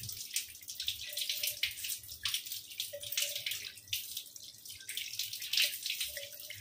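Tap water runs into a kitchen sink during fish cleaning, a close, steady splashing stream with gurgling and fluctuating flow.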